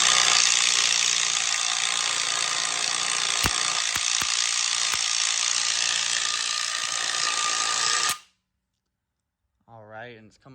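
A tool works a bolt loose while an LS engine camshaft is pulled out, giving a loud, continuous close grinding whir with a few sharp metallic clicks. It stops abruptly, followed by silence and a brief voice.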